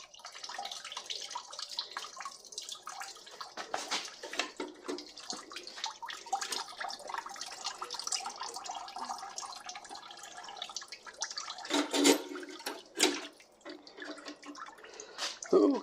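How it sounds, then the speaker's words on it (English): Water drips and trickles into a bucket while gauges are being fitted on an Oliver Super 55 tractor, a steady irregular splashing near the microphone with a few sharper spatters toward the end. "Catching the water in the bucket."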